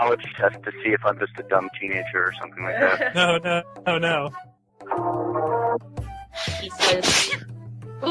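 A single sneeze bursts out during a podcast recording, heard over a line among several people talking, with other voices before and after it.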